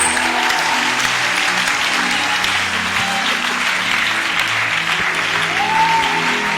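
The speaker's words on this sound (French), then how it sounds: "On acclame le Seigneur." A church congregation bursts into sustained applause during a worship service, a dense wash of many hands clapping that fills the room evenly throughout, with faint voices mixed in.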